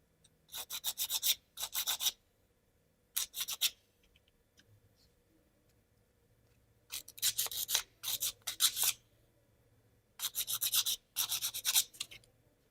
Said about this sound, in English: smooth them out with the sandpaper and wax them.